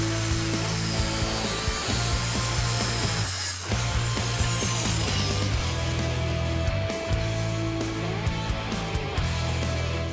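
A copper-clad stainless steel rod is cut with a power tool in a coppersmith's workshop, a loud continuous grinding whir with a brief dip near the middle before cutting resumes steadily.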